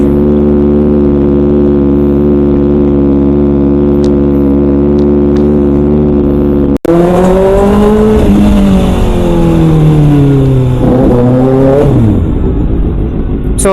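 A 2024 Kawasaki ZX6R motorcycle engine droning at a loud steady pitch, then after a brief cut its revs rise and fall through shifting tones while riding, close and dominant throughout.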